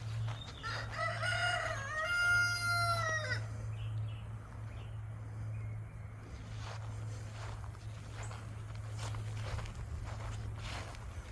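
Chickens kept in backyard coops on an off-grid property, a rooster crowing loudly once near the start, then quieter clucks and scuffling steps beneath a steady low hum.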